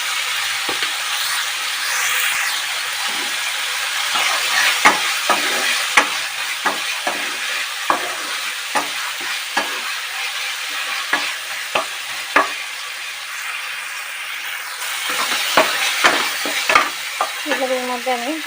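Okra (bhindi) frying in a pan with salt, a steady bright sizzle broken by regular scraping stirs of a spatula throughout.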